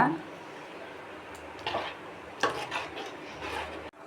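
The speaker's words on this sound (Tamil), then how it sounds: "இப்போ நம்ம கரைச்சி வச்சுருக்கிற இந்த மசாலாலாம் இதில் ஊற்றிக்கலாம். ஒரு தடவை நல்லா கலந்து விடுங்க" Masala being stirred into fish curry in a pan: a few scraping, clinking strokes of a spoon against the pan, spaced out over a few seconds and fairly quiet, with soft bubbling between.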